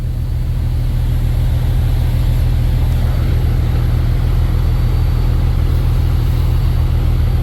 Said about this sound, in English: Trucks everywhere in this port.